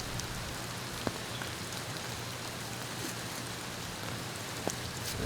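Steady, fairly loud rain pours down across an outdoor disc golf course during a cold, wet tournament final round, with scattered louder drops hitting near the recording spot and no voices heard.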